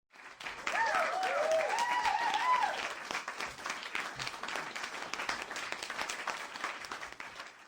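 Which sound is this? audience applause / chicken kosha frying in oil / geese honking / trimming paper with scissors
audience applause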